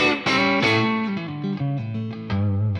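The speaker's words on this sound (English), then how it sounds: "This is a typical spring reverb on the combo amp" Electric guitar chords played through a spring reverb on a Fractal Axe-Fx III, with dense distorted, effected tone; sustained strummed chords change every second or so, each ringing into a washy reverb tail, close and loud with no talking.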